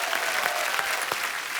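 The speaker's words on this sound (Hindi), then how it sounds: "जोरदार तालियां" A studio audience on a comedy talk show claps steadily in a dense, even burst of applause that fills the whole moment, with no talk over it.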